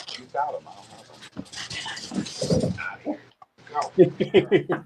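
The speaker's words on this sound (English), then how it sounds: "The dog's eating any of those springtails on the ground." A dog pants and snuffles close by while eating springtails off the ground, with quick rhythmic breaths at the end, under and between a person talking.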